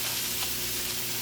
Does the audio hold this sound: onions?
yes